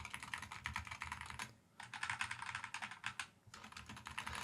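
Rapid typing on a budget 65%/75% mechanical keyboard, clear close keystrokes in quick bursts with two short pauses, sounding solid rather than plasticky, no talking.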